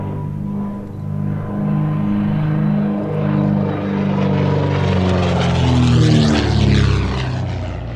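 Vintage propeller aircraft flying at the Shuttleworth air show, a loud steady engine drone with a strong low harmonic hum that swells and shifts pitch as the plane passes fairly close, no voices.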